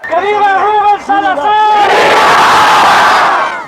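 Protesters in East LA in 1971 chant in unison, a loud rhythmic crowd cry that swells into a roaring, sustained shout of many voices.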